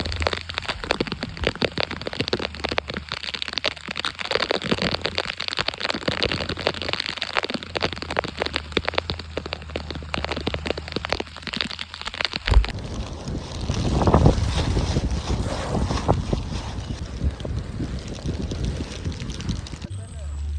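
Rain at a fishing harbour sounds as a steady crackling patter mixed with gusty wind buffeting the microphone, then changes midway to a softer, rougher wash of water and wind.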